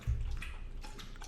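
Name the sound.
dog lapping up drinking water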